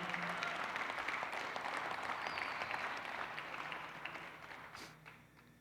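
Applause from a church congregation during a Spanish-language sermon, a fairly faint wash of many hands clapping that slowly fades toward the end.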